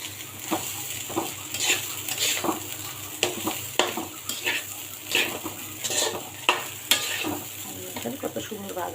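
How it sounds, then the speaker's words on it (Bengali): Rice for biryani fries in a pot while being stirred, with rhythmic scraping strokes roughly every half second over a continuous close sizzle, and no talking. "হ্যাঁ, চালটা একটু ভাজা হয়ে গেছে, একদম মুচমুচে হয়ে গেছে।"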